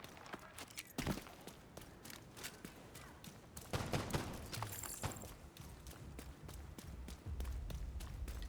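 Scattered gunshots from a video game, sharp cracks at irregular intervals with a few louder hits, mixed with running footsteps and other game sounds at moderate level.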